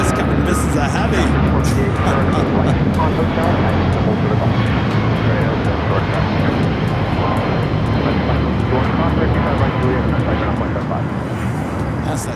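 A Boeing 777-200ER jet at LAX gives a loud, continuous engine roar that stays near and steady, easing only slightly toward the end, with radio talk mixed underneath.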